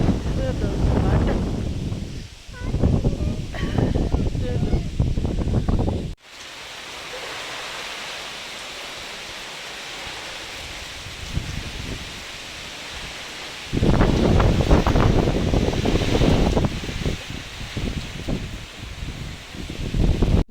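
Strong wind blows through trees during a rainstorm in a partly cleared area, producing loud, roaring gusts in long bursts separated by a quieter lull in the middle.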